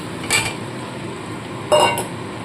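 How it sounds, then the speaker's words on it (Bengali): Fried potatoes and chicken pieces go into a pan of red chicken curry masala, giving two short clattering knocks of food and utensil against the metal pan over a steady low background hiss. "এবার এর মধ্যে আমি ভেজে রাখা আলু আর চিকেনটা দিয়ে দেবো"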